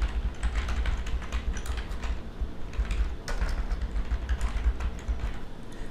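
Rapid clicking keystrokes on a computer keyboard as login details are entered, a close, steady run of taps with brief pauses and no talking.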